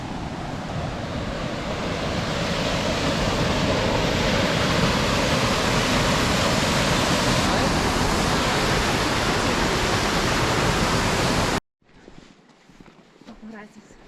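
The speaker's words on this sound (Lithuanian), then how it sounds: "kai upė šniokščia" A mountain river near Morskie Oko in the Tatras rushes in a loud, steady, broad roar that builds slightly over the first seconds, holds, then stops abruptly, leaving quiet background.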